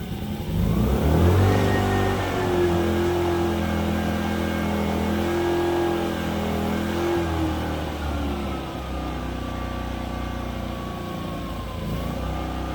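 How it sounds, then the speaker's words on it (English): A small engine, just rebuilt after a carburetor cleaning, cranks and catches, then revs steadily with a sustained mid-pitched drone that dips slightly later on, loud and close with no talking. "this is going to be the first time starting it after everything is put back together"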